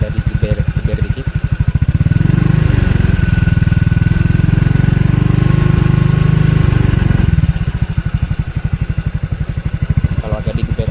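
Honda Beat 2020 scooter with a modified exhaust, revved lightly from idle: a steady close, rumbling engine note swells for a few seconds and then settles back to a throbbing idle.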